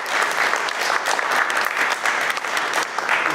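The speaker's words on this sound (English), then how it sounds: "Maybe we just give him a round of applause and thank him for coming." Steady applause from an audience at a Corte Madera town meeting, thanking a visiting fire marshal; dense, continuous clapping held at an even level from start to finish with no talk over it.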